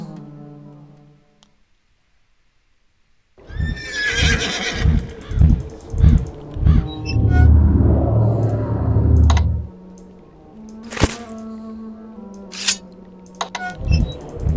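A Pegasus in the Quest for Glory 5 game lets out loud neighs and whinnies over a run of rhythmic hoof clops, after a soft musical note and a moment of silence, ending in scattered clicks.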